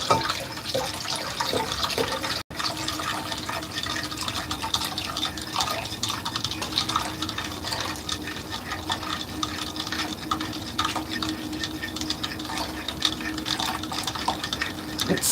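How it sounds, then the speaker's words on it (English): Liquor being stirred into a Cardinal Rose eggnog-style drink makes soft, close liquid swishing and clinking, steady and quiet throughout. "So stirring in the liquor, here it is, the beautiful liquor. Just stir this in."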